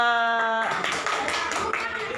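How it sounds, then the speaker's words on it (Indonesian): Students in a school classroom clap for a student group after a plant-propagation poster presentation, a close, busy patter of hands that starts abruptly after a moment of voice and fills the rest of the clip. "boleh tepuk tangan buat kelompok 2"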